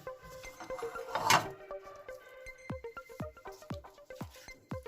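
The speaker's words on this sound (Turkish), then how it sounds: "Şimdi etlerimizi güzelce doğrayalım." Knife chopping boiled sheep's head meat on a cutting board, a run of sharp, evenly spaced thuds in quick rhythm, close and fairly loud, following a brief rustle of handling.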